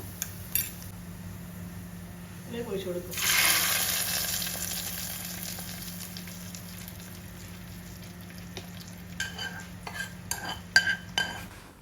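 Egg curry tempering frying in a pan and being stirred, with soft sizzling, a brief burst of spattering hiss, and light scraping and clinking of a utensil throughout, fairly faint and close.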